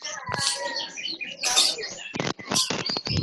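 Birds chirping and tweeting nearby in a series of bright, irregular calls and trills, with a few short broadband knocks mixed in.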